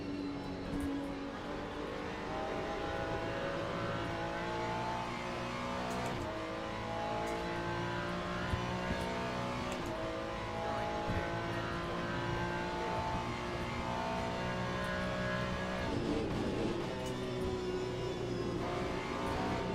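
A Ferrari GT3 race car engine in the Le Mans Ultimate racing game revs high and drops again as it shifts through gears. It sounds loud and continuous, with repeated climbs in pitch and no talk.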